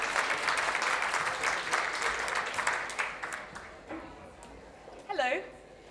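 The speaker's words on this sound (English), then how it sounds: "Round of applause." An audience at a concert claps steadily for several seconds, the applause fading out before a brief voice speaks near the end.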